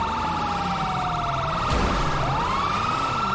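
Wailing police car siren in GTA V, sweeping up and down in pitch continuously over engine and road noise from the game, steady and fairly loud throughout.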